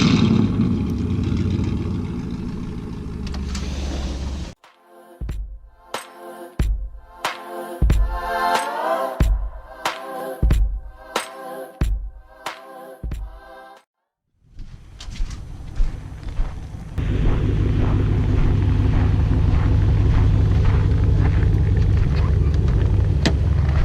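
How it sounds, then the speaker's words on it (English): A 2007 Pontiac Grand Prix GXP with the LS4 V8 driving on snowy roads: a steady engine and road rumble that cuts out midway through a choppy stretch, then returns loud and continuous. "so do a little POV drive here in the snow in the GXP"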